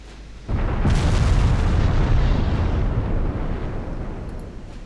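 Warship main guns fire in the naval video game Ultimate Admiral Dreadnoughts: a sudden loud, deep boom swells into a heavy, sustained rumbling roar that slowly fades, with no voices.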